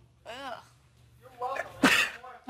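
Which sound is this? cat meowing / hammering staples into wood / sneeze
sneeze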